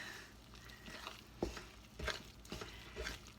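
Sticky zwieback dough being mixed by hand in a bowl, with soft squelching, scraping stir strokes arriving in a few irregular bursts, close and fairly quiet.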